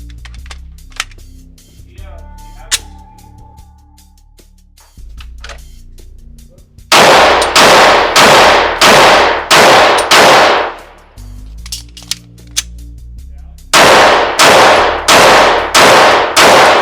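Walther PDP pistol fired in quick point-shooting strings, two bursts of about five or six loud, sharp shots each, with quieter handling clicks and clatter between them.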